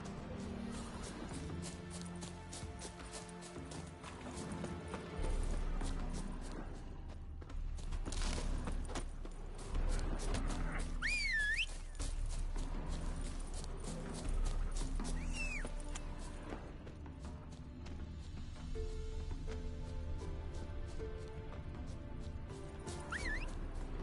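A horse's hooves clip-clop and gallop across the ground in The Witcher video game, rhythmic thuds under game music, with a brief neigh and a voice.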